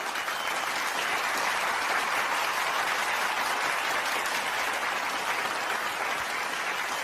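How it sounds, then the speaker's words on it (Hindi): Sustained audience applause in a large hall after a speech opening, dense steady clapping from a big crowd at constant loud level throughout, no talk over it. "करीब 2 मिनट तक लगातार तालियां बजती रही"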